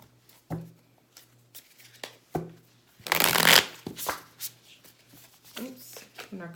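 A deck of tarot cards is shuffled by hand, with a loud riffling burst in the middle and scattered soft card taps and slides around it, close up, while a person talks.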